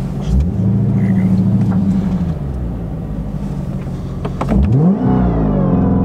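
A Dodge Demon revving loudly at a drag strip before a launch-mode run, a deep rumbling engine drone that rises and falls, with a brief surge near the end; a voice speaks a single short word.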